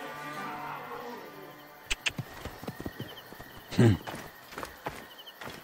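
Horses in a race in the video game Assassin's Creed Origins, with scattered clip-clop hoof thuds building over a low rumble, plus a louder burst near the middle that may be a whinny.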